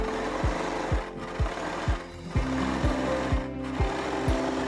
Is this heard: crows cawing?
no